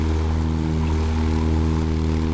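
A Cessna Caravan single-engine turboprop hums in a flight simulator with a strong, steady propeller and engine drone, constant and close throughout.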